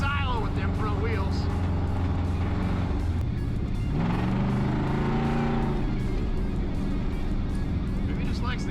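Engine of a custom 1974 Chevrolet C10 shortbed shop truck with a chopped top, heard as a continuous loud rumble that rises in pitch as it accelerates, then settles, with talk over it throughout.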